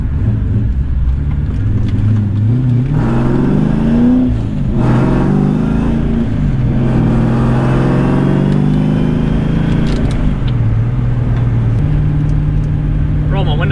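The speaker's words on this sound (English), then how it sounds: "Roll my windows up so you guys can get a good exhaust note." A nitrous-equipped street car with the windows rolled up, its engine roaring loudly as it accelerates hard, pitch climbing through pulls with a brief dip between gears, exhaust drone and wind rush constant throughout.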